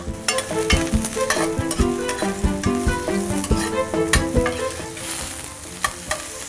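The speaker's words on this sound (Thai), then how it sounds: "ผัดรวมกันกับน้ำมันก่อนผัดไฟแรงสัหน่อยก็จะดีนะครับ" Mushrooms sizzle and crackle in hot oil over high heat while a utensil stirs and scrapes against the pan in steady, busy strokes, loud and close.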